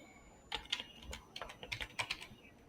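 Fingers type a single short word on a computer keyboard, a quick run of light clicking keystrokes about a dozen in number, close and fairly quiet, with no talking.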